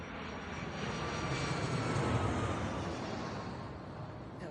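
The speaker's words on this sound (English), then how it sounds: "That was an airplane." A propeller airplane drones overhead, a steady broadband engine roar that swells slightly and then fades, fairly loud with no talk.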